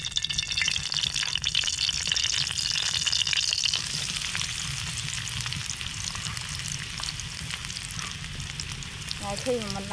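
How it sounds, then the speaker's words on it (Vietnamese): Shrimp crackers fry in hot oil with a dense, continuous crackling sizzle. It is loudest in the first few seconds, then settles to a steadier bubbling hiss, and faint voices can be heard nearby. "Chiên bánh hồng tôm ăn với gỏi."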